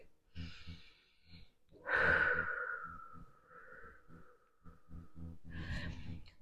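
Slow, deep breaths close to the ear: audible inhales and long exhales in an unhurried rhythm, quiet and alone.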